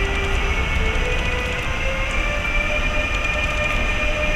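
A Railjet train departing Budapest Keleti station, a loud steady rumble of rolling wagons with a sustained tonal whine, constant and close throughout.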